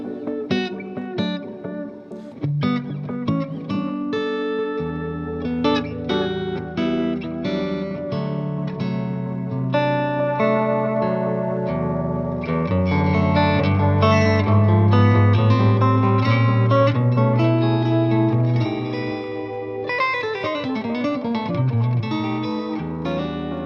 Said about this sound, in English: So that's with a very warm spring reverb.